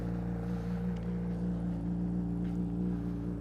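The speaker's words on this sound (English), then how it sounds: "Bike still sounding good, running strong." A motorcycle engine idling steadily after starting, a loud, close, even low rumble with a strong hum and no talk.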